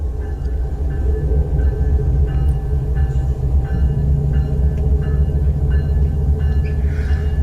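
Union Pacific GP15 locomotive and a large GE C45AC rail yard engine near Roseville, heard from the California Zephyr passenger train: a loud, steady low rumble of rolling wheels with faint clicks and squeals, no voices.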